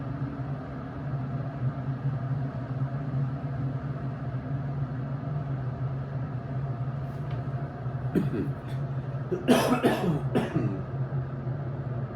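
A couple of short coughs near the end, heard faintly over a steady low engine-like hum that runs throughout.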